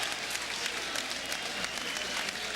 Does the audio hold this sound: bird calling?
no